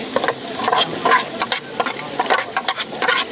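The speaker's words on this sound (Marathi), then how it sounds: "आता मी वाटण टाकत आहे." Ground onion-coconut masala paste frying in a pot for a spicy chicken curry, with a steady close sizzle broken by repeated stirring scrapes in a quick irregular rhythm, no voices.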